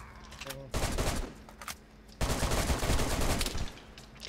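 Bursts of gunfire in the DayZ survival shooter, two loud volleys of rapid shots a little over a second apart, the second longer and sustained, with quieter game sound between.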